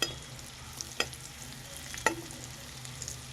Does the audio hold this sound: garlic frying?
yes